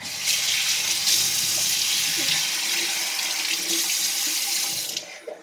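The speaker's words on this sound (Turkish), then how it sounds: "Şimdi yüzümü bir yıkayayım." Tap water running steadily into a sink while someone washes their face, a loud close continuous splashing rush that cuts off near the end.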